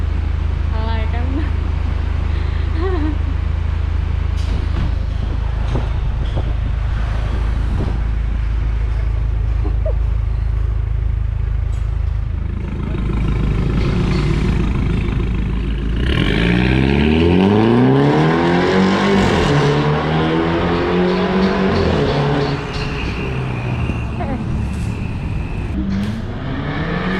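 A Mercedes E300 Coupe fitted with a new aftermarket exhaust idles with a deep rumble, then revs and pulls away, its engine rising loudly through the gears, with people talking throughout.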